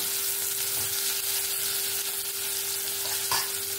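Onion and tomato with salt sizzle steadily in a pan for an egg curry, a dense continuous frying hiss with faint scraping of stirring and a soft knock near the end, close up and without talk.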